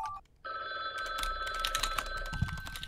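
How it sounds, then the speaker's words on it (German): A telephone rings with a sustained electronic bell tone after a brief pause, accompanied by scattered keyboard-like clicks and a dull thump near the end, close and clear with no talking. "Digga, Telefon!"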